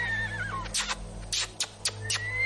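A horse whinnies and neighs in a few loud, shrill bursts, close by, over a steady low rumble of background noise.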